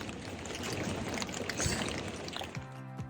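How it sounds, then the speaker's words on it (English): Rain and water noise around a small boat in Prague, a steady wash of spatter with a low motor hum emerging near the end. "Boat ride in the rain."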